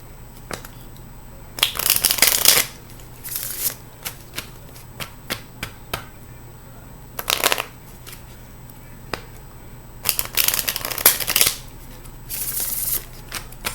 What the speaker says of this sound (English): Let me do a shuffle real quick.